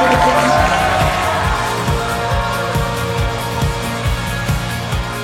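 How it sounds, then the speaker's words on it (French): A crowd at a celebration event for an improv trophy applauds and cheers in a loud, steady wash of sound that holds throughout, with music playing underneath. "faire un tonnerre d'applaudissements"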